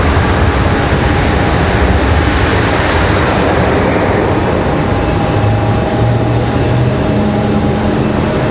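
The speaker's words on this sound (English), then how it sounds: "Nice touchdown for Southwest. 737-800." A Southwest Boeing 737-800 landing at Raleigh-Durham airport produces a steady, loud, broadband roar of engine and rushing air, continuous throughout with faint tonal whines riding over the noise and no voices.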